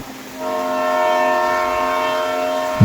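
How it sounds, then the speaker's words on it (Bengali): A train pulls into a station, its horn sounding a long, steady, loud tone over the rumble of the wheels, then a sharp clack near the end. "দীর্ঘ প্রতীক্ষার পর ট্রেন এলো।"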